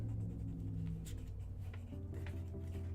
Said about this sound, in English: Sorry, the pencil broke, so the writing's a little messed up.